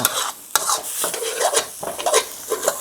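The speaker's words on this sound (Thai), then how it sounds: "ผัดให้หอมนะครับ" Ingredients for a Thai canned-fish noodle curry sauce stir-fried in a pan, with a spatula scraping and rasping in irregular close strokes and a light sizzle underneath, no voices.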